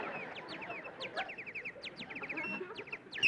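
A tame bird calls repeatedly, quick chirping notes that come in bursts over a soft indoor background, no talking.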